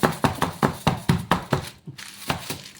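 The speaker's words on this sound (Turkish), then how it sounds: "Hava kabartıcımız çıkarmak için böyle birkaç defa tezgaha vurmamız gerekiyor." A cheesecake pan is rapped against a kitchen countertop about ten times in a quick, even rhythm, each knock a close, sharp thud with a short pause partway through.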